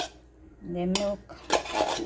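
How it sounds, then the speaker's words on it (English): Spoon scraping around a bowl of Oreo and vanilla ice cream mixture, close and clear, with a couple of short scraping strokes and clinks against the bowl. "So I scrape everything."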